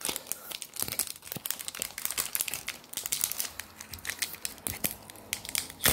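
A hockey card pack wrapper being torn open by hand, close crinkling and ripping of foil plastic in irregular bursts, quiet, with no talk.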